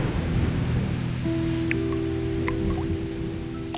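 Steady rain pours down with a dense, hissing wash, and scattered drips and drops stand out over it. Faint low tones run underneath throughout.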